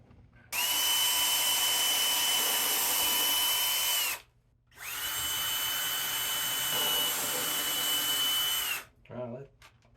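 A power drill bores through Formica laminate into a particle board counter in two long sustained runs separated by a brief pause, a steady high whine close by, with a short bit of rattling at the end.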